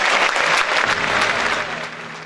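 Audience applause at a GKS football club 50th anniversary event, a dense burst of clapping from many hands, loud and close, tapering slightly toward the end.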